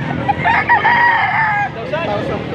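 A gamefowl rooster of a pure 5K sweater line lets out one full crow, close and clear, while people talk nearby.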